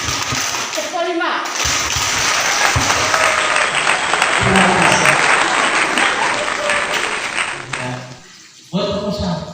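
A group claps together in a loud, sustained burst, with voices and thumps mixed in, before a brief lull near the end and a return of voices.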